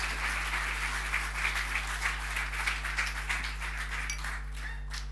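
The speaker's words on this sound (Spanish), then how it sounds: "Alguien que le dé un aplauso al Señor por eso" A church congregation applauds during a sermon, steady clapping from a crowd in a large room that tapers off toward the end, over a constant low electrical hum.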